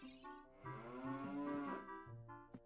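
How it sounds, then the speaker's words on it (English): Cows in Zelda: Ocarina of Time give a long drawn-out moo, low and tonal, followed by a shorter second moo, clear and close with no talking. "I can't talk to the cows."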